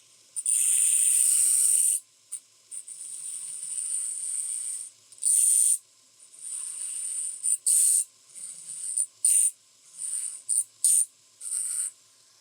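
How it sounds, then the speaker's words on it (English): A chef knife edge pressed against a belt grinder's radius platen gives bursts of high-pitched hissing scratch, one long pass followed by many short, irregular strokes with brief silences between them, close and fairly loud. "I'm sharpening."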